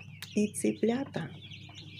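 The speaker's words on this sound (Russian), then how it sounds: "цыплята вот эти вот, которые тут вылупились, они просто не дают спать. Кричат и кричат." Several shrill cheeps from newly hatched chicks in a plastic incubator on day 21, short bursts close by, with a quiet voice murmuring among them.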